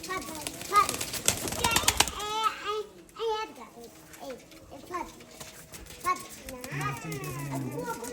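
Pigeons coo and flutter in a home loft amid chirpy bird calls, while someone talks throughout and a voice is heard nearby.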